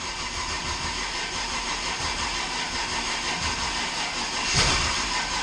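An LS 5.3 V8 swapped into a Fox-body Mustang cranks and struggles to start in cold weather on old E85, a steady loud churning engine noise with a brief surge near the end.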